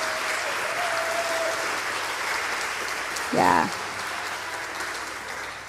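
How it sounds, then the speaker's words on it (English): Audience applause for the camp's staff team at a summer music camp concert, a steady broadband wash of clapping that runs throughout, with a brief spoken word near the end rising above it. "they deserve that round of applause"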